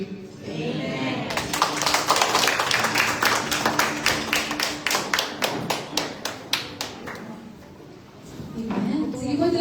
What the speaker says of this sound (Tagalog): tuloy natin ang malakas na palakpak para sa Panginoon